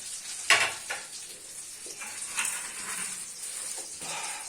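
Green chillies go into a frying pan for a traditional Pakistani village dish, followed by steady sizzling and stirring, with a few sharp clinks of a utensil against the pan at moderate loudness; no one talks.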